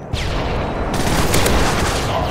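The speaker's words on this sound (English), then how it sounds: "Friendly airstrike on the way." Friendly airstrike in Call of Duty MW3 Domination, a dense continuous barrage of explosive booms and crackling blasts rolling together loudly for a couple of seconds with no talk.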